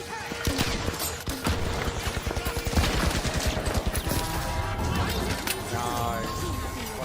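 A frag grenade burst and rapid gunfire in a chaotic video game match, dense crackling volleys and thumps rolling over several seconds, loud and close, with players shouting over it.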